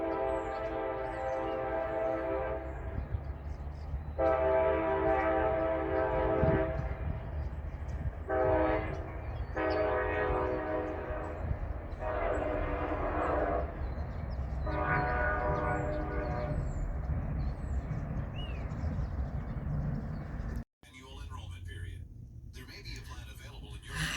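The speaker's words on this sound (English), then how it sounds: "Here comes the train." A train passes near a campground resort in Manteca, California, sounding repeated long harmonic horn blasts in several bursts over a steady low rumble of rolling cars, with a person speaking briefly.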